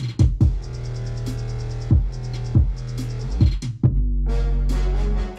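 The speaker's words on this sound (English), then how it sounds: "it goes to a distorted blarp preset from Serum, which then we distorted even more with clip distortion" Trap drop pairing brass stabs with a distorted Serum blarp synth preset, pushed further with clip distortion and sidechained to the kick and 808, giving a heavy sustained low end punctuated by repeated pumping hits.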